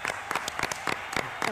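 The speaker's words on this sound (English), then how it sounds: "We're literally clapping back." A few people clapping, irregular sharp claps close by in small clusters, with some talking mixed in.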